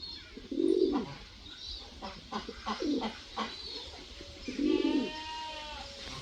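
Pigeons coo in low, throaty bursts, three main rounds spaced across the clip, close by, with faint chirps and rustling in between.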